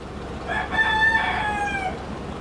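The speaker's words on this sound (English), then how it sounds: "You would think that your guests would complain about all the roosters" A rooster near a hotel in Durango, Mexico, lets out one long crow of about a second and a half, moderately near and clear over a faint ambient background.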